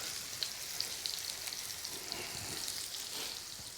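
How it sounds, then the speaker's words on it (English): Sauce with chili flakes sizzling in a pan while being stirred, a faint but steady high hiss with small crackles and light scraping, no speech. "And just stirring it around, it all starts to loosen off."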